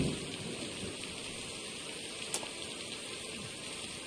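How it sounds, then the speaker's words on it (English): Heavy rain pounds steadily on a car during a night drive by a lake, a dense, loud hiss with one brief sharper crack partway through. "Raining hard as hell."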